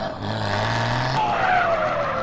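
A truck engine in a SAMP video game with a straight-pipe sound mod revs hard and close, a rising roar joined by a thin whine that glides downward.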